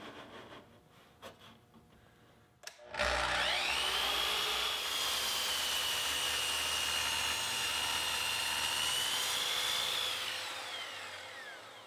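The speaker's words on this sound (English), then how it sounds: "I'll use the table saw to rip the boards a little bit heavy" A table saw rips boards, starting with a sharp thump as the blade bites, then a loud, steady high whine that holds for several seconds before tapering off, close and with no talk.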